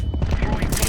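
Rapid automatic gunfire spraying in Counter-Strike on the Dust 2 map, a dense, continuous burst of shots filling the whole moment, loud and close.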